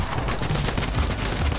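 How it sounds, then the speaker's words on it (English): Tommy gun fire in the Fortnite video game, a dense, continuous burst of rapid shots filling the whole moment at steady loudness, with no talking over it. "Yep, that's a Tommy gun."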